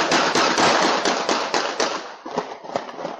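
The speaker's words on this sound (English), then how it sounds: "you hear the first series of gunshots and see people scrambling for safety" Rapid bursts of gunfire crackle in quick succession on a street, loud and sharp, continuing as a dense volley before thinning into scattered shots.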